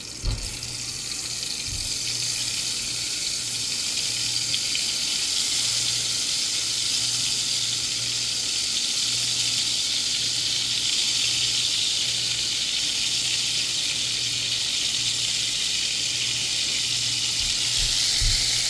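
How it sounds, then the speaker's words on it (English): Shrimp fry in oil in a pot, giving a steady, even sizzling hiss that holds throughout with a faint low hum underneath. "go in with some oil in your pot. Take your shrimp, layer them in piece by piece"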